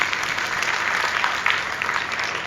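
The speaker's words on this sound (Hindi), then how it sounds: "तो एक बार जोरदार तालियां इनके परिवार के लिए," An audience claps steadily throughout, a dense, even wash of applause filling a hall during an Arya Samaj gathering.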